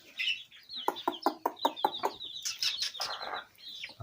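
Chickens and young chicks cluck and chirp close by, with a quick run of rhythmic clucks followed by higher peeping calls, loud and alone without speech.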